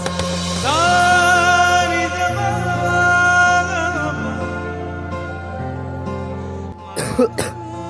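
A young woman with late-stage blood cancer gives a few harsh coughs near the end of a quiet scene, brief and close, after a long stretch of sustained tonal background music.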